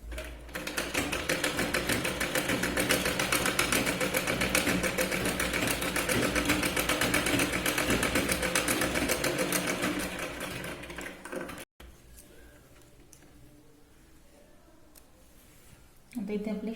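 Sewing machine stitching a blouse shoulder seam, a close, rapid, even whirring hum for about eleven seconds, then stopping abruptly before quiet handling and a brief restart at the end.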